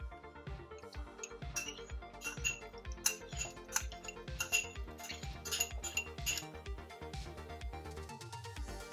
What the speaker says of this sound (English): And just mix it up.